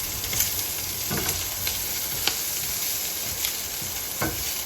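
Meat and onion frying in a pan for an omelette on a home stove, a steady sizzle with occasional soft stirring scrapes and clicks, close and continuous.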